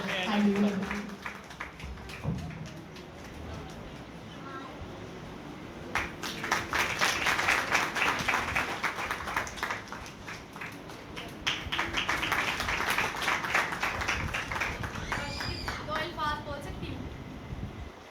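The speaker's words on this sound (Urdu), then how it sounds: "بھرپور تالیوں میں" A church congregation at a Sunday service breaks into sustained applause that swells twice, the dense clapping filling a reverberant hall, with speech heard before it.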